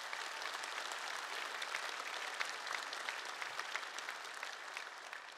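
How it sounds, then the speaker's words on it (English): An EVE Fanfest 2011 presentation audience breaks into dense, continuous applause, a broad wash of many hands clapping at steady volume throughout, heard from within the hall without any voices over it. "so could we give them a round of applause?"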